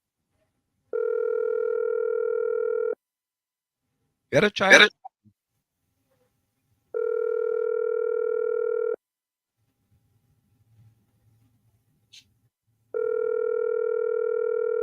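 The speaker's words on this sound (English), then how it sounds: "we're calling the Minister of Local Government" A telephone ringback tone sounds while a call is placed, with three long, steady two-second pulses spaced far apart. A brief spoken line falls between the first two pulses.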